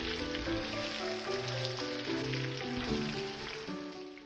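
Chopped onions frying in a pan for poha, a steady, fairly loud sizzle and crackle running evenly throughout with no talking.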